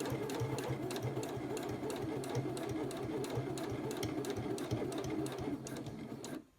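A sewing machine stitches around a zipper pocket in one steady, close, continuous run of rapid mechanical whirring that stops abruptly near the end.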